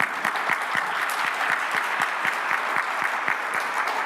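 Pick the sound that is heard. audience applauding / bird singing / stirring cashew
audience applauding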